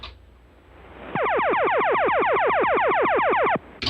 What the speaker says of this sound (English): if you forgot the tone signal, it sounds like this.